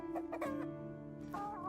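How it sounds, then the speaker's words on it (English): Chickens clucking in the fantasy video game Tainted Grail: Fall of Avalon, a few soft, close clucks repeating over a quiet, tonal game background. "They're the chickens."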